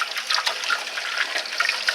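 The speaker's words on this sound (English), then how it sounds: "I rinse them out real good." Tap water runs steadily while bird water dishes are rinsed out, a continuous close splashing trickle with no talk.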